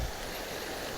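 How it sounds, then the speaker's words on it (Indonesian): A river runs down toward the Kedung Kayang waterfall near Selo, Boyolali, on the slopes of Mount Merapi, giving a steady, broadband rush of flowing water that fills the whole second without a break. "Jadi ini adalah sungai yang turun ke air terjun Kedung Kayang."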